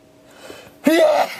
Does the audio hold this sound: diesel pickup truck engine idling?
no